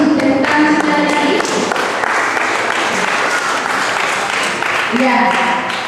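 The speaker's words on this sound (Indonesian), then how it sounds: "Tepuk tangan sekali lagi." Wedding guests break into loud, steady applause that fills the whole stretch, with voices of the crowd mixed in and a brief lull before clapping swells again near the end.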